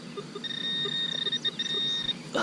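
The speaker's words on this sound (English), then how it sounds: "my detector's still doing a little beeping all by itself" A metal detector emits a sustained high electronic tone on its own, steady for over a second and a half with a brief dip, faint and close, over quiet outdoor background with no talking.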